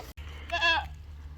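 A single goat bleats briefly at a farm at feeding time with bottle-fed kids nearby, a short nasal cry standing out against quiet background noise.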